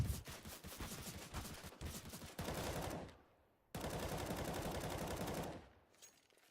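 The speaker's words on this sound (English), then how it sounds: "Please stop shooting me" Rapid automatic gunfire in CS:GO on the Inferno map comes in two long, loud bursts, each cut off by a short silence. No talking.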